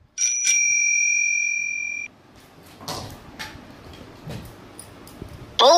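A bicycle bell gives a bright, ringing double ding that sustains briefly, followed by quiet clattering and knocks, then another sharp burst at the end.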